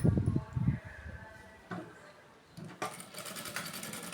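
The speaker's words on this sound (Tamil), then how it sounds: "இப்போ ஓரத்தில் ரஃப் அடிச்சுக்கிறேன்." A sewing machine stitches a blouse dart, running in short bursts and then a steadier whir close by, with a voice speaking briefly at the start.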